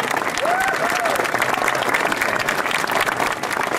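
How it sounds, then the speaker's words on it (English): Concert audience gives an orchestra a round of applause with dense, continuous clapping at a steady, fairly loud level, with faint voices under it. "let's have one more round of applause, please, for the orchestra."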